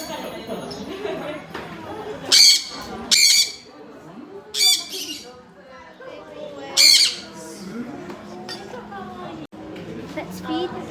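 Birds at a feeding give several loud, harsh squawks in short bursts, spaced a few seconds apart, with people talking throughout.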